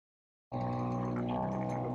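A sailboat's engine starts up after half a second of silence and settles into a steady, droning mechanical rumble with a buzzy hum, running close by and alone.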